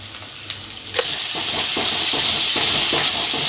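Spice paste for a Bengali katla fish dalna sizzles and hisses steadily in a hot pan, a loud continuous fry that swells after a brief opening, with soft scraping stirs breaking through at intervals.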